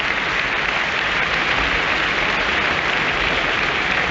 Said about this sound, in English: So this applause, a touching tribute to Lisa Hughes